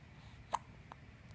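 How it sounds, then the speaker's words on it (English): A single sharp hiccup from a child stands out against quiet room tone, followed by a fainter second hiccup nearly half a second later. "Someone's got the hiccups."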